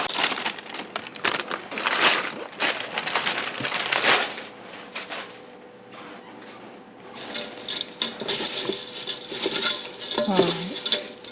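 Dry fideo pasta nests snap and crackle as they are dropped and broken into a Ninja Foodi pressure cooker pot, a run of close, dry crunching bursts with a brief lull midway before the rattling resumes.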